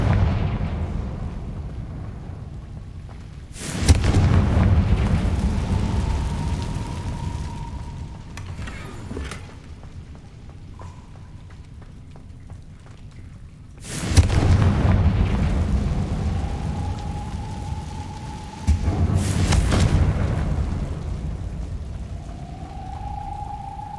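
Confringo spell explosions in the video game Hogwarts Legacy: three sharp, booming blasts several seconds apart, each followed by a rumbling decay, with a rising whistling tone trailing after the bursts.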